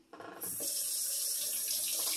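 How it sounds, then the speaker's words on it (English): A kitchen tap switches on and water runs steadily into a sink, loud and close, a continuous rushing hiss with no talk. "Let the water run for a minute."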